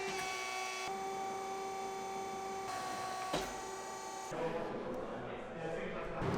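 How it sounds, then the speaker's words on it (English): An injection mold machine runs steadily in a workshop, giving off a continuous mechanical hum with tonal whine that shifts pitch in steps, joined by a broader rushing noise in the second half. "This is the injection mold machine that I'll be using."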